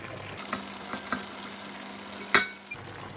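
Bitter gourd pieces drop into a simmering spicy masala curry with a low steady bubbling, a few soft splashes and stirring knocks, and one sharper clatter near the end.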